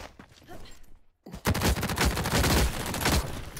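Gunfire in the shooter game The Cycle: Frontier, a few scattered shots at first, then after a brief silence a loud, dense burst of rapid automatic fire that keeps going to the end, with no talking.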